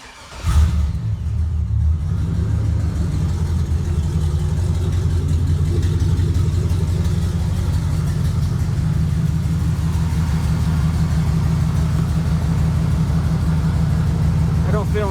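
A deep 4.8 V8 engine in a 2000 GMC Sierra pickup with a swapped Y-pipe and a manifold exhaust leak revs briefly, then settles into a steady, throaty rumbling idle close by.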